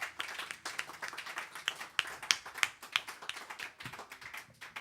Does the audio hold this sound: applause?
yes